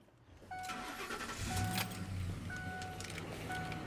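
A 2004 Ford F-150 pickup truck engine cranks and catches after a brief pause, then settles into a steady idle, heard from close by, with a faint jingle of keys.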